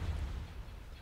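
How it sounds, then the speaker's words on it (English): A deep, rumbling explosion from the space strategy game Sins of a Galactic Empire, a low-heavy boom with noisy decay that fills the short moment, with no talking over it. "That was an explosion."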